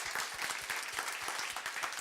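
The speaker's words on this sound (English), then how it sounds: "let's give a round of applause to Kris" Audience applause at an Ember.js NYC meetup, steady dense clapping from a room crowd that holds evenly throughout.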